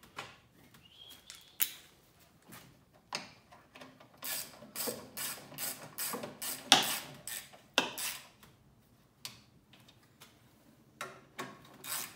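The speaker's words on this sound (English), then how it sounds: "I like to get all of them just sort of wound in a couple of turns before tightening them up." Ratchet wrench tightening engine bolts on an old Rover 4-stroke, quick bursts of metallic clicking separated by pauses, close and crisp with some faint clinks of metal parts in a quiet workshop.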